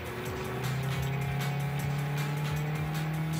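A Scion xB accelerates with its engine note rising steadily, loud and close from inside or beside the car, and the tone climbs through the gears with no talk.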